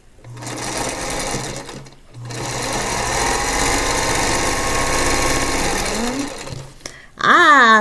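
A sewing machine stitches quilt block pieces for an Aunt Eliza's Star sampler block in loud, steady runs of close whirring, pausing briefly near the start and stopping at the end.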